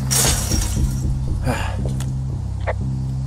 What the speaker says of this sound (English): I smashed open the gate